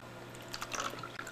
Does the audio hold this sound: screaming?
no